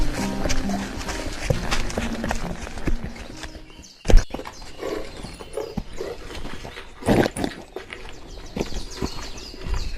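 Horses' hooves clip-clopping at a halt on a journey, busy overlapping steps with a few louder knocks, close amid other movement and background noise.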